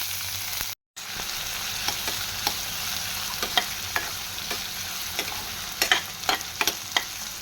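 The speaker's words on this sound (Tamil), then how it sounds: "இப்போ பொடிசா நறுக்குன இந்த வெங்காயத்தையும் இதுலயே பொரிச்சு எடுத்துக்கலாம்" Onions sizzle in hot oil with a steady crackle and scattered sharp pops, close and continuous apart from a brief cutout near the start.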